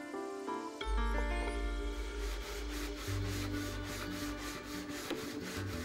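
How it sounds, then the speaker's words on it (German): Hand sanding block rubbing back and forth on wood, a continuous rasping scrape with repeated strokes and a low steady hum underneath, close and moderately loud. "Der Handschleifklotz ist zeitsparend und haltbar und schleift unzählige Materialien."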